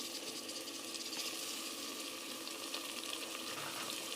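Tomatoes hit frying onion, garlic and ginger in a pan for chicken dum biryani, giving a quiet, steady sizzle and hiss throughout with no voices.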